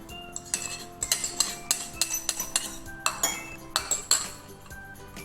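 A beaten egg is poured into a mug while a metal spoon clinks against it, giving a close, irregular series of sharp chinks and taps over about five seconds, with no talking.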